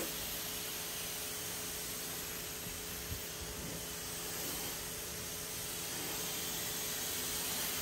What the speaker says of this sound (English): let's go ahead and rinse it off